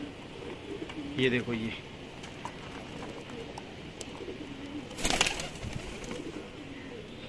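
Soft pigeon cooing in the open, a couple of low murmured calls under a man's nearby speech and outdoor background noise.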